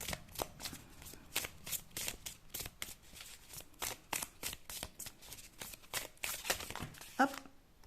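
A deck of mystic cat oracle cards shuffled by hand: steady, close riffling and sliding of card stock in a continuous rhythm, with a light snap near the end.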